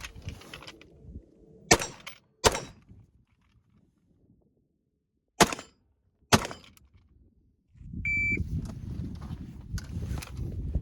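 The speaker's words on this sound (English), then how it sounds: "roll this down and I'll take some shots on this rifle rated steel." Four sharp gunshots ring out from a vehicle at rifle-rated steel targets, sounding as separate loud cracks with pauses between, followed by rumbling background noise.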